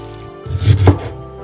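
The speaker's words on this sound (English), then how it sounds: "Let's slice the ginger." A knife slices through fresh ginger on a cutting board, a brief cluster of two or three close, crisp cuts against a quiet kitchen background.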